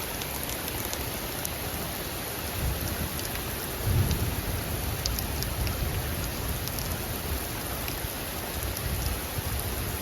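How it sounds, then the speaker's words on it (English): Heavy rain pours steadily during a severe summer thunderstorm with intense lightning, a dense hiss of downpour with low thunder rumbling underneath and a brief stronger rumble partway through. "This is really heavy rain, actually."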